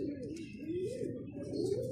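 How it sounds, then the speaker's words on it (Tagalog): A checkered cock pigeon from a breeder's loft coos close by, its low, rolling, throaty calls repeating in a steady rhythm with faint chirps in the background. "Yung ibon."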